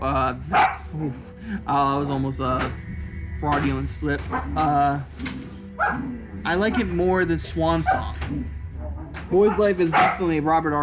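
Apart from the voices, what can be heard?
dogs barking in the background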